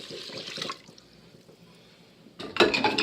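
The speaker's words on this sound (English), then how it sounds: "So I'm going to add in 3 cups of milk." Milk for sausage gravy pours into an Instant Pot pressure cooker, a soft liquid splash that starts faint, fades, then swells into a louder gurgling pour near the end.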